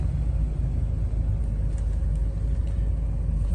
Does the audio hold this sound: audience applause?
no